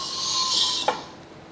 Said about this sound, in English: Pop the nitrous oxide cartridge into the holder, screw it into the top, and you'll hear the gas release into the canister.